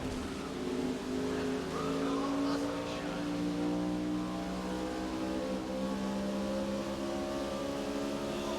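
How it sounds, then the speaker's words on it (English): A video game car engine hums steadily and slowly rises in pitch as it gains speed, a smooth synthetic drone with no other sounds. "It's speeding up, but I'm like, dang, this car is slow."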